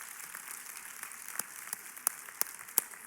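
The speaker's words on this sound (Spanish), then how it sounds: "Denle un fuerte aplauso al Señor en esta mañana." A church congregation applauds during a Spanish-language Sunday morning service, a soft, distant patter of clapping with a few louder individual claps standing out toward the end.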